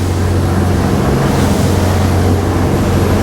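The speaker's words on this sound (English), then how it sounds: "The engines sound great, the boat feels good." Twin engines of a 2008 Nimbus 402 Nova motor cruiser running at speed, a steady loud low drone with water rush and wind noise, continuous throughout with no talking.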